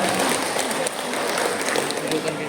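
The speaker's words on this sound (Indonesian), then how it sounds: "Tepuk tangan buat Bapak Ibu semuanya" An audience of parents, teachers and staff applauds at a grade 9 farewell ceremony at SMP Negeri 16, a steady dense clatter of many hands lasting throughout, with a voice faintly underneath.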